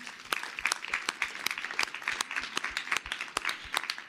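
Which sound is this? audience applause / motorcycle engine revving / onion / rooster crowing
audience applause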